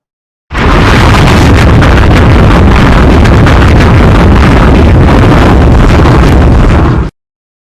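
A booming explosion effect, loud and dense with a rumbling low end, sustained for about six and a half seconds before cutting off abruptly.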